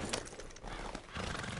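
A horse in Red Dead Redemption 2 gives a short whinny over soft hoof clops, close and moderately loud, with no speech.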